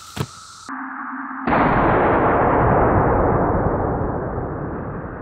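A .308 rifle fires at a 2-liter bottle outdoors: a sharp crack, a short pause, then a loud booming report that decays slowly over several seconds, with no voices.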